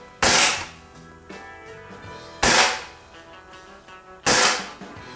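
Evanix Rainstorm PCP air rifle fired into a pellet trap: three sharp, loud cracks spaced about two seconds apart, each with a quick decaying ring, against a quiet background.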